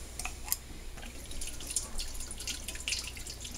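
Rice vinegar poured into a dish for an Asian salmon recipe, a faint thin trickle with scattered small drips and splashes, heard close and alone for a few seconds.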